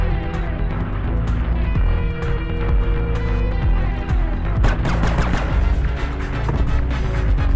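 Gunfire from Tom Clancy's Splinter Cell on a Vselka submarine mission, with a dense, steady barrage of shots and impacts mixed with game music and ambience, loud throughout, with a busier burst of cracks in the second half.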